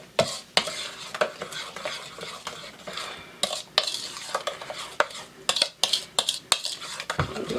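Spoon or whisk stirring a liquid peach cobbler batter in a bowl, with rapid irregular clinks and scrapes against the sides, close and soft, no talking.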